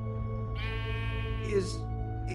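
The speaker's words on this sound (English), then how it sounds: "A sheep?" A single sheep bleat from the video game Minecraft Story Mode, a drawn-out wavering cry heard close over a low steady game hum.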